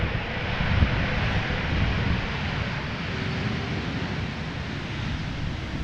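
An airliner touches down at Amsterdam Schiphol after a transatlantic flight from JFK, landing without reverse thrust: a steady broadband engine and airflow roar with wind buffeting, fairly loud and constant throughout.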